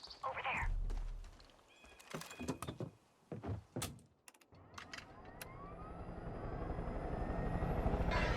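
A helicopter in Far Cry 5 spins up amid door thunks and clicks, its rotor drone growing steadily louder toward the end.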